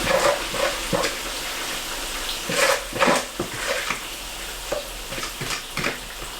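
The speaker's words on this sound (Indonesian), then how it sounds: "Ini kita masak dulu bawang gorengnya, bawang merah, bawang putih dulu kita masukin." Shallots and garlic fry in oil, sizzling steadily in a pan while a utensil stirs and scrapes, giving irregular clattering bursts over the frying hiss.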